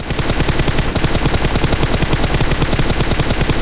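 Loud, sustained automatic gunfire from PUBG Mobile, a rapid, unbroken burst of shots at close range that fills the whole stretch without pause.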